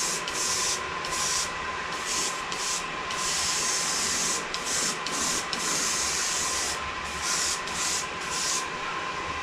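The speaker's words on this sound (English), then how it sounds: "So do some silver before I put the gold. Airbrush a little bit on" An airbrush sprays silver paint onto an emblem in a steady, close hiss that pulses with short interruptions as the trigger is worked on and off.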